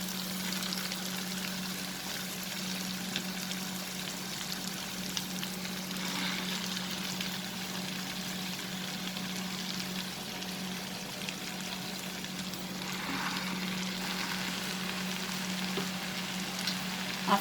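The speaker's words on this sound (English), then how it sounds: "Now we will add the spinach." Spinach goes into potato gravy in a hot pan and sizzles, a continuous close frying hiss with soft stirring textures and a steady low hum under it, no voices.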